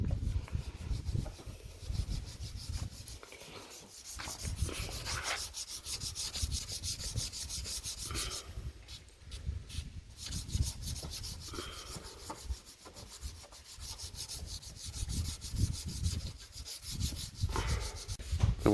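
Hand sanding a car headlight lens with an abrasive pad, a soft, steady scratchy rubbing that repeats in back-and-forth strokes, close but fairly quiet.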